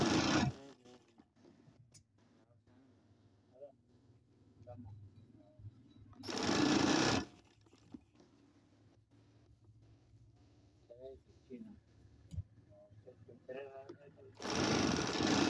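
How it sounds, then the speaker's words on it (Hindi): A sewing machine stitching a double seam on a garment sleeve, running in loud whirring bursts near the start, middle and end, with a person talking at length in the quieter stretches between runs. "इसको हम डबल सिलाई लगाएंगे, इसी सिलाई के ऊपर सिलाई लगाएंगे।"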